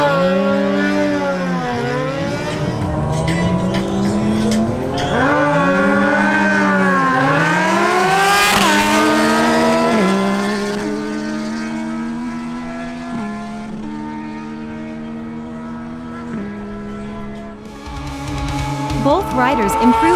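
A Yamaha MT-09 and a Suzuki GSX-S750 motorcycle drag racing: loud engines scream upward in pitch, drop at each gear change and climb again, with repeated rising sweeps of revving close by over about twenty seconds.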